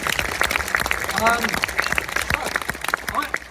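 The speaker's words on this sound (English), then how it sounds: "Round of applause for Sandy." An audience at a live Q&A event bursts into applause, a dense, steady patter of clapping mixed with voices and cheers, fairly near and sustained throughout.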